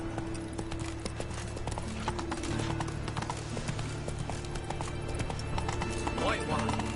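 Hooves of the horse Roach in a video game, a steady clip-clop at a walking rhythm throughout, with game sounds and a voice speaking over it.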